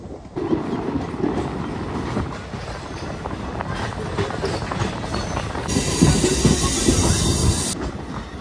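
A local DEMU train pulls into Siliguri Junction station in the Dooars, its wheels rumbling and clattering loudly over the rails at close range, with a steady hiss and a brief high squeal toward the end.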